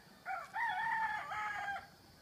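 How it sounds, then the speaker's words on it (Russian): A single rooster crows once at dawn in Bali, clear and fairly close, over faint background noise. "Петухи орут."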